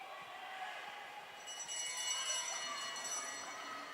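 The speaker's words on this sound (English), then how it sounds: "They get the bell." A bell rings for the last lap at a national track cycling championship, a faint metallic ringing over a busy velodrome crowd murmur that grows louder midway.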